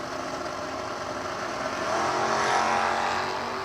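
Drag race between a 1969 Mustang and a Chevrolet, with a broad steady engine roar from the cars on the strip that swells louder past midway, heard at some distance without talk.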